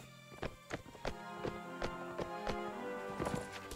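Hooves of a white horse in Mount and Blade Warband beat over rough, uphill ground, a run of close, evenly spaced clops over a constant background of game music and ambience.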